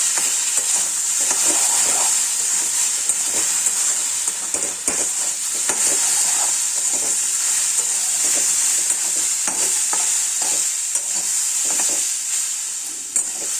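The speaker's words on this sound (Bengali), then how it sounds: "এবার একটু নাড়াচাড়া দেব।" Jujube chutney with turmeric and salt is stirred in a hot pan, giving a loud, continuous bright sizzle laced with frequent small scraping clicks from the spoon, close up and without voices.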